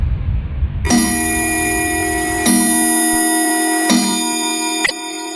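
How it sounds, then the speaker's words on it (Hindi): A wall clock chimes three times, each loud resonant strike ringing out with long sustained overtones about every one and a half seconds, followed by a quieter final strike. "तभी दीवार घड़ी पर 3 बजने की आवाज हुई।"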